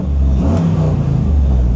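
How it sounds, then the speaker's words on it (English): V8 LS3 engine in a 1959 Chevrolet Bel Air restomod coupe, heard close and loud as a brief burst of throaty revving over a steady idle rumble. "Fires right up, no problems."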